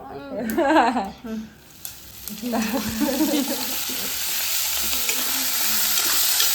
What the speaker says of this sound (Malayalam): കിഴങ്ങും ഉള്ളിയും ഇതിലേക്ക് ആഡ് ചെയ്ത് കൊടുത്തിരിക്കുകയാണ്